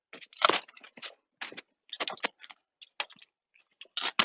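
Hydrangea stems cut during pruning with sharp snips and crunching clicks, a series of close, irregular bursts separated by brief silences.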